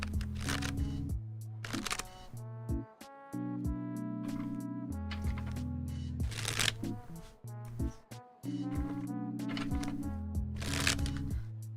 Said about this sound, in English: See how fast I can shuffle.